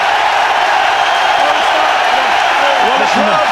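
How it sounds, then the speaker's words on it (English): Rugby league stadium crowd at a St Helens versus Huddersfield play-off semi-final, a dense, sustained roar of cheering with commentary voices woven through it. "the crowd feel as though they've been justified. And listen to it, you'd think that St Helens had scored a try"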